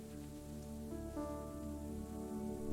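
Steady rain falls outside a village on a rainy evening, a continuous soft patter that lasts throughout and sits beneath a sustained tonal background.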